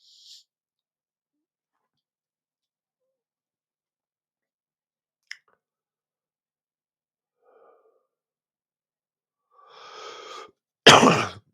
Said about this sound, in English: So I've actually got a cough.